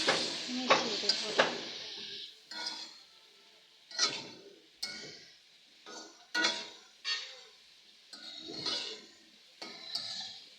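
Pre-cut drumsticks are stirred into a fish curry in a pan, a series of separate scraping and clinking strokes with faint sizzle between them, close and fairly loud.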